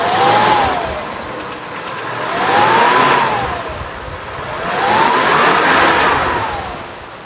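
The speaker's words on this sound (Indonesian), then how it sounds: "sekarang kita coba naikkan RPM-nya, kita dengerin suara RPM tingginya bagaimana" A 1989 Toyota Kijang KF50 engine revs up three times in slow waves from low to high RPM, its pitch climbing and falling back between each rise, with no talking.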